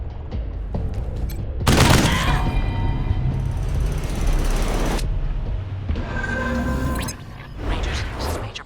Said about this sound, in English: Incoming fire! Taking cover!